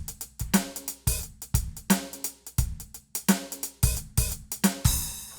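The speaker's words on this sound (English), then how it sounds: "we immediately close it right after? It's going to put a bark right in the middle, and it's going to sound kind of like this." Drum machine hi-hat pattern with a hi-hat briefly opened mid-pattern and immediately closed, giving a short bark among crisp repeated ticks and steady kick-like thumps, loud and close.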